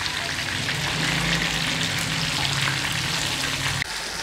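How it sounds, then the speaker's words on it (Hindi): Fish fillets frying in hot oil for a masala fish dish, a steady, close, dense sizzle that holds for about four seconds, then a brief clack. "ये पक रही है, देखिए अंदर भी इसके ऑयल जा रहे हैं"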